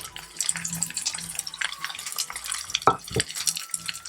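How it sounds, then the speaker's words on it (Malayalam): A spoon stirs mustard seeds, curry leaves, green chilli and ginger in hot oil for Kerala-style puli inji, giving soft scraping and light sizzling with a couple of sharper clinks against the pan, heard close with no talk. "പിന്നെ അത് നന്നായിട്ട് ഇളക്കി കൊടുക്കുക"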